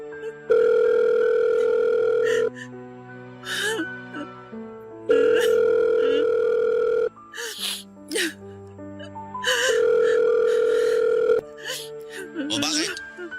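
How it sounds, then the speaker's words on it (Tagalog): Telephone ringback tone heard while placing a call, three long steady rings with gaps between, each gap filled by music and brief vocal sounds. "Susubukan kong tawagan siya ngayon."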